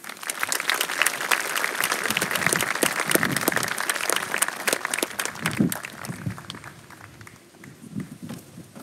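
An audience applauds to welcome an assemblyman at the Storm King School's 150th commencement, a dense, sustained roar of many hands that holds strong for several seconds before thinning and trailing off near the end.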